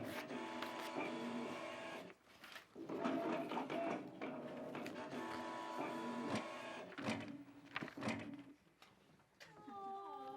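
An office printer runs for about ten seconds, a busy mechanical whirring and clattering with brief pauses and rhythmic feed clicks, close and fairly loud.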